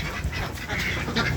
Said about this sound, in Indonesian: Bisa kita lihat ini kapasitas 70 ekor bebek daging.